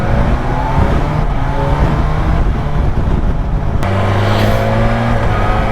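A BMW S1000XR motorcycle engine pulls steadily while riding on a country road, a loud continuous drone with wind noise and a brief shift in pitch near the end as the gear changes.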